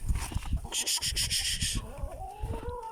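Chickens on a farm cluck and squawk as they are driven inside, a brief flurry of loud, close calls mixed with shuffling movement and a faint voice nearby.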